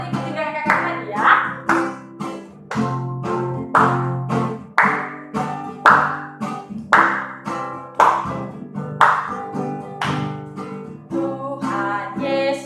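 Children at a Sunday school service clap their hands in steady unison along with a sung hymn, each clap sharp and evenly spaced under the melody, with singing voices carrying throughout.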